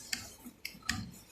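A stamp machine mechanism under repair gives slow ticking, three sharp, close, isolated clicks spaced unevenly about a quarter to half a second apart over quiet background.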